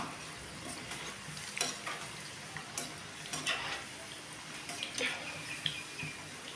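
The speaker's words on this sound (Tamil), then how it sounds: "ஆயில் ஹீட் ஆனதும் நான் கொஞ்சமாக பக்கோடா மாதிரி கொஞ்சம் கொஞ்சமாக நான் போட்டுக்கிறேன்" Potato pakoda batter drops into hot oil and fries with a moderate, steady crackling sizzle, scattered with small bubbling pops and scrapes.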